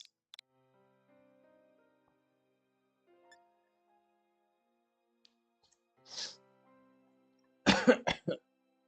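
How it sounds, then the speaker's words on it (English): One short cough, then a quick cluster of three harsh coughs close to the mic, in an otherwise quiet room. "I got this cough all over a sudden."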